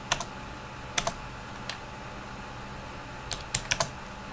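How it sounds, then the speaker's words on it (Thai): Computer keyboard typing while drafting house plans: sparse clusters of quiet key clicks, a few near the start and a quick burst of several toward the end, separated by pauses over a steady low room hiss, with no voices. "พิมพ์ข้ามตรงเลยก็ได้ครับ"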